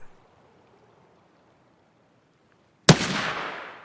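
Single loud rifle gunshot in a video game, fired at a target 200 meters away, a sharp crack after near silence followed by a long fading echo.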